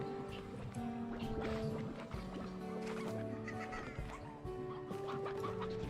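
Hens cluck in a robot-ruins exploration video game, several short bursts scattered among game music and ambience, moderately close and layered over other busy sound.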